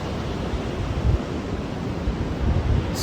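Ocean surf rolls steadily at Bandon Beach, Oregon, a broad continuous roar with some wind buffeting the microphone and slight surges, no voices.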